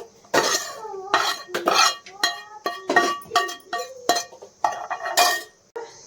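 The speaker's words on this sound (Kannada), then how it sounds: "ಸ್ವೀಟ್ ಕಾರ್ನ ಅದನ್ನ ಬೌಲ್ಗೆ ನಾನು ಶಿಫ್ಟ್ ಮಾಡ್ಕೊಳ್ತಾ ಇದ್ದೀನಿ" Fried sweet corn is scooped from a pan into a bowl with repeated sharp clinks and scrapes of a metal spoon against cookware, coming in irregular bursts close up with no talking.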